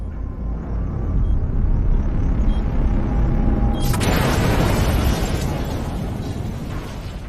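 A bomb placed in front of a building detonates in the 2018 film Impossibility Defense. A low, steady rumble gives way to a loud, sudden blast that keeps roaring with heavy, sustained noise until the end.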